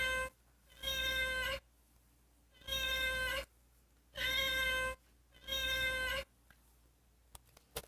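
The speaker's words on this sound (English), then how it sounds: "My brother got me a lovely cat clock." A novelty cat clock gives four evenly spaced electronic meows, each a sustained, bright, tonal cry of about a second, loud and close, separated by short silences.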